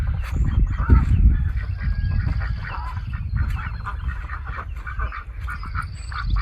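Farm birds call outdoors, geese honking and ducks quacking in a busy mixed chorus, with low rumbling movement and wind noise close by and scattered higher calls throughout.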